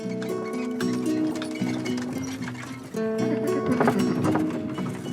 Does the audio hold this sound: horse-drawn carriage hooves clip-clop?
yes